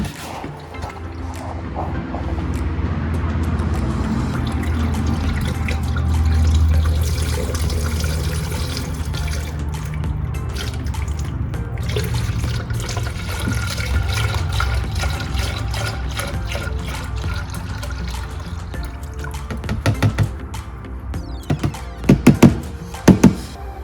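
Coolant pours into the cooling system of a junkyard Nissan 370z, a steady close liquid gurgle and rush lasting throughout, with a few louder knocks and clunks near the end.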